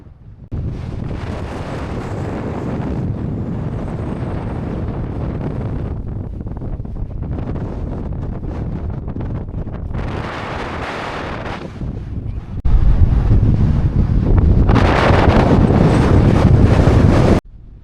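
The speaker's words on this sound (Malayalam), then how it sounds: "ഒരു രക്ഷയുമില്ലാത്ത കാറ്റ് അടിച്ചുകൊണ്ടിരിക്കുന്നത്" Strong wind buffets the microphone in long roaring gusts on the Meesapulimala hilltop in Kerala, growing louder and harsher toward the end, with no voices.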